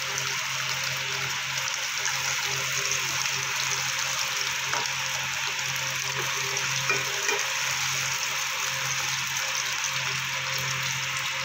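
Potatoes fry in a covered kadai, giving a steady, even sizzle that carries on without a break, close and moderately loud, with no talking.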